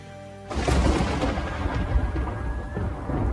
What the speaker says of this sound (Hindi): ऊपर से ठंड और ये तेज बारिश